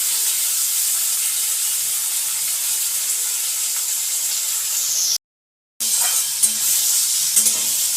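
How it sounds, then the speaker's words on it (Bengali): Sliced onions fry in oil for beresta with a loud, steady sizzle and hiss, broken by a brief silent gap before the sizzling resumes with a few light scraping clicks. "এই যে পেঁয়াজটা মা এখানে ভাজছে সেটা বেরেস্তা করে মা এটা আবার রেখে দেবে।"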